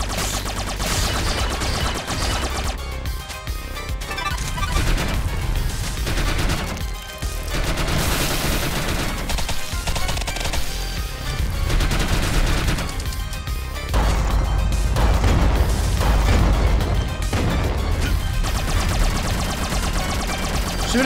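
Rapid video game gunfire from The Mummy: Demastered, dense repeated shots and crashing impacts running continuously and loud across the whole stretch, layered with game music and no voices.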